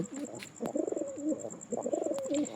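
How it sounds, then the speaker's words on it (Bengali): A male flying pigeon coos in a home loft, two clear bouts of warbling, rising and falling coos close by, each opened by a short sharp tap, with a faint steady high tone running beneath. "এই দেখতে পাচ্ছ আমার ঘরের পুরো ওড়ানো পায়রা, কালার করা পায়রা"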